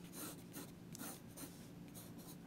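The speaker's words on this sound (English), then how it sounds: "I will take my pencil, if you can imagine, I'll draw you the shape." A pencil sketches a rough shape on paper in a quiet series of rhythmic scratchy strokes, close and soft, with no talking.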